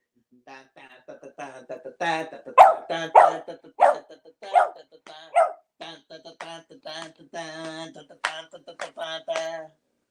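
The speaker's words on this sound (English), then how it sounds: "Why'd you stop barking? God dang it, dog." A dog barks repeatedly, short close yips and barks in an irregular run mixed with a person's voice.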